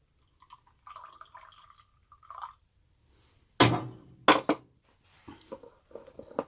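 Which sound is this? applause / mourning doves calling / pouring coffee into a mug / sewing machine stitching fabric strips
pouring coffee into a mug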